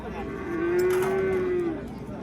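A cow moos once, low and drawn out for about a second, close by at a cattle bazaar in Chim, Qashqadaryo, where cows with calves and bulls are sold. Soft crowd murmur continues underneath.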